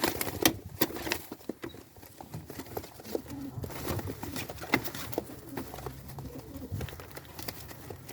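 Pigeons, including a grey female being readied for flight training, coo and shuffle close by. Wing flutters and pattering footsteps sound through steady low background noise.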